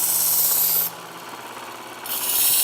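A kitchen knife being drawn across a sharpener against a leather-lined 17-degree angle guide: a steady close rasping scrape that pauses briefly partway through and then resumes, with no voices.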